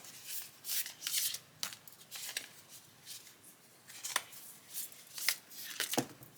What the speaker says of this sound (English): I'm just going to keep shuffling until we get one.